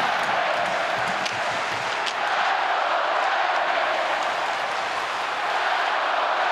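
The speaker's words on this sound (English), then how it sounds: "And the crowd coming at you." Hockey arena crowd cheering as the home team pushes to tie, a dense, loud, continuous roar of voices with scattered clapping, steady throughout with no pauses.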